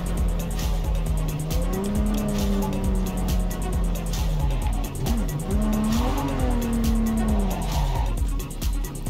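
Car engine revving and accelerating with tires squealing in Cyberpunk 2077, a steady loud motor tone rising and falling in pitch through gear changes, with skidding squeals throughout and a voice speaking over it.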